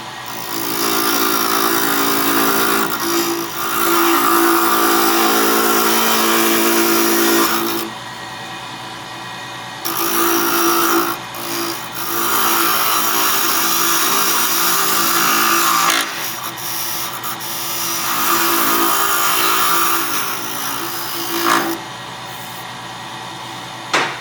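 Wood lathe turning a small wood core ring with a carbide tip tool: a continuous motor hum with a scraping, rasping cut that comes in long stretches, breaking off briefly and resuming, close up with no talk.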